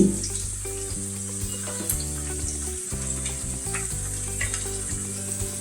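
Potatoes frying in ghee in a pan for a spiced okra dish, a steady close sizzle with occasional stirring clatter and scraping of the spoon.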